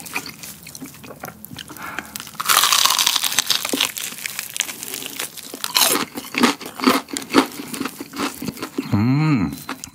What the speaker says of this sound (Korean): 가슴살 먹어보자.